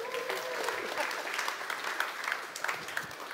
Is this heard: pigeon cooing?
no